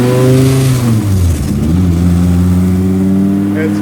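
An 800-horsepower 9.0-litre V10 Plymouth hot rod engine revs loud and close, its deep rumble rising and falling through a steady throttle blip before settling into a heavy, sustained idle roar.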